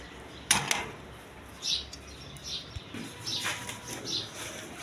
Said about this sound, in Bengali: এই দেখেন কবুতরগুলো দেখেন